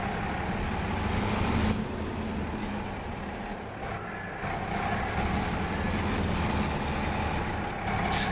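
A tractor hauling a heavy plough through a field gives a dense, steady engine rumble, loud and continuous throughout with no pauses.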